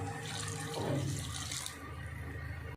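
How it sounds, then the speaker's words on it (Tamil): A brief splash and gush of one cup of water being poured into bottle gourd gravy for biryani, rising then tapering off, fairly quiet against a soft background hiss. "காய் வேகிறதுக்கு 1 கப் தண்ணி ஆட் பண்ணிக்கோங்க."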